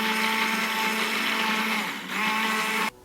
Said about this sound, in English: Then use a blender to mix your glaze.